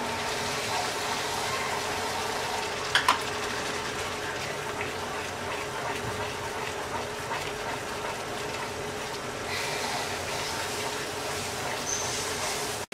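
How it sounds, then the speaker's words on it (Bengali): Chili powder and turmeric powder frying in oil in a pan for a sweet and sour amra chutney, giving a steady, even sizzle and hiss throughout, with a couple of brief clinks from the utensil and no talking. "এবার এই মশলাটা আমরা কিছুক্ষণ কষিয়ে নেব।"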